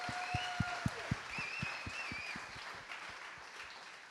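Conference audience claps in sparse, distinct hand claps at the end of a main-stage event, fading out over a few seconds, with faint tones and room noise behind.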